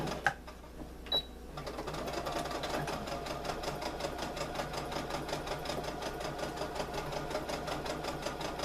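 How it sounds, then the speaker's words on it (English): A home sewing machine back-stitches the corners of a fabric trick-or-treat bag, starting after a couple of soft clicks with a fast, even mechanical chatter that runs steadily at close range. "when I get to the corners is I am going to do a back stitch"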